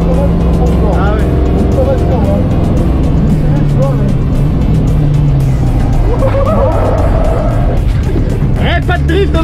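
A Renault 11 swapped with a 1.9 turbo diesel engine laps the Circuit du Luc race track. A loud, constant engine drone rises and falls through gear changes from inside the car, with voices talking over it.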